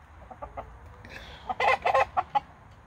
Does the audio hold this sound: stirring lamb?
no